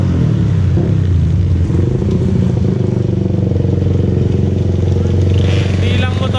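Motorcycles, scooters and bikes riding past on a road trip to Kaybiang Tunnel, a loud, continuous engine rumble and drone up close, with one machine revving higher near the end.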